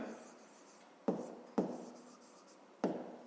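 Pen writing a math equation by hand for a fifth-grade exercise, quiet and close: soft continuous scratching broken by three sharp taps or strokes as the pen meets the paper.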